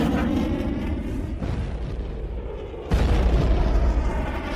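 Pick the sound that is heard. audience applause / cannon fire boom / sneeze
cannon fire boom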